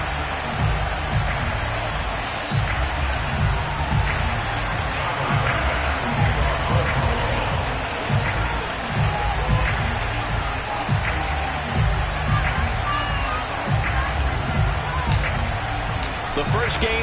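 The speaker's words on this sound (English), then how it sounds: "Somehow this place got even louder a short time ago as the Falcons were introduced to this sellout crowd." Sellout stadium crowd roaring steadily as the Atlanta Falcons are introduced before a game against the Buffalo Bills, a dense continuous wash of cheering with sharp claps and thumps scattered through it.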